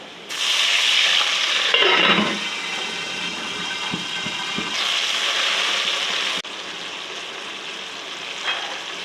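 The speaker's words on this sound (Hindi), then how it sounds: "पानी डालूंगी थोड़ा सा।" Water poured onto dark-browned onions in a pan for matar pulao bursts into a loud hiss that settles into steady sizzling, with a few stirring clinks, then drops to a quieter bubbling simmer.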